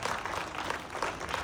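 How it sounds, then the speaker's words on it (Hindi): Audience applause at a daytime session talk, a brief burst of dense, even clapping heard fairly faint and distant. "तालियां बजाइए इनके लिए।"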